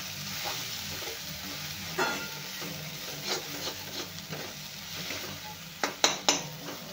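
Onion and spice mixture frying in a pan for a dried bombil (Bombay duck) chutney is stirred with scraping, rubbing strokes over a low steady sizzle, with louder scrapes toward the end; no one speaks.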